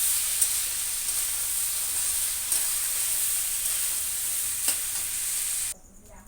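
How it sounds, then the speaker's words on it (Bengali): Rice for khichuri is stirred in a hot pan under a constant loud hiss and sizzle, with occasional soft scrapes of the spoon, until the sizzle cuts off abruptly near the end. "এবার চালটা দিয়ে সুন্দর করে নাড়াচাড়া করে নেব আমি"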